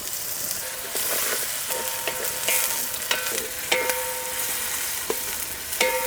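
Onions sizzling as they brown in a pan for Guntur-style biryani, with a steady frying hiss broken by repeated stirring clinks and scrapes of a utensil against the pan.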